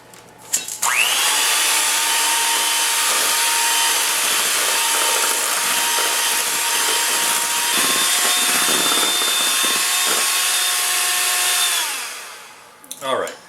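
An electric mixer creams six whole eggs with two cups of sugar, starting abruptly into a loud, steady high whir that holds for about eleven seconds before winding down, with soft knocks at the end.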